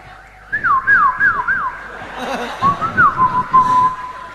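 A voice whistles an imitation of an ambulance siren, with rising and falling wails repeated several times and then a longer glide. It is loud and close, with some crowd noise underneath.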